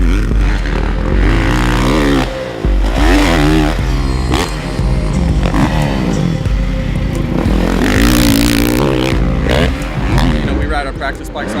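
A supercross race motorcycle ridden on the track the day before a race, its engine loud and close, revving up and down continuously with throttle swells throughout.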